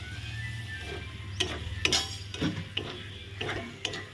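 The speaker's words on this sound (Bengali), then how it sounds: "পনিরটা দিয়ে এখন একটু ভালো করে নেড়ে নিচ্ছি" Pieces of paneer are stirred into a dry butter paneer masala in a pan, with a soft sizzle beneath repeated close scraping and clinking of a spoon against the pan at an uneven rhythm.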